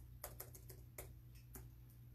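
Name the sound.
typing on a computer keyboard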